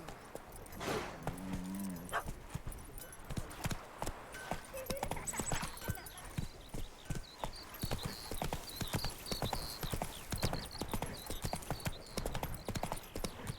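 Horse hooves clip-clop in steady rhythm in The Witcher 3 as the horse travels a country road, close and continuous, with a brief whinny near the start and a voice talking over the hoofbeats.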